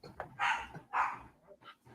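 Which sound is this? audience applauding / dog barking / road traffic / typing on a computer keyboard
dog barking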